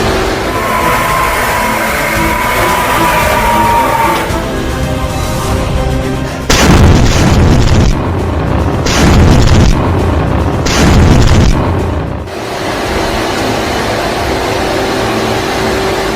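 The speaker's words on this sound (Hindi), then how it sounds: "ये है हिजबुल्लाह की क्रूज मिसाइल। ये क्रूज मिसाइल" Hezbollah cruise missile launches toward Israel: a steady engine-like hum gives way to several heavy, loud booming blasts in quick succession, then a quieter rumble returns.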